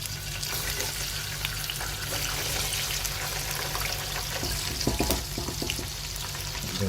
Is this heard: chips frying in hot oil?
yes